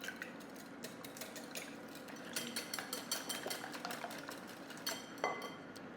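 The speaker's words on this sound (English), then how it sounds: "Let that go while we give this a good whisk." Eggs for Greek strapatsada are whisked in a bowl, making quick, close metallic clinks and scrapes in a busy, uneven rhythm.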